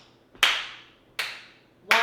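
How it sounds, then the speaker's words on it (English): Three sharp single hand claps spaced roughly evenly, each with a crisp attack and short ringing room decay, beating out the big beats of a song; close and alone with no talking. "So we're going to clap out those big beats."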